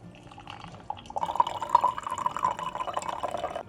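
Boiling water pours into a gaiwan over loose tea leaves, starting with a few drips and building into a close, bright, steady filling stream.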